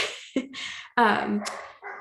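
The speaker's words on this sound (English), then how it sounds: "I apologize if you can hear my dogs in the background." Several dogs bark in the background behind a person who keeps talking, the yips and barks brief and partly buried under the voice.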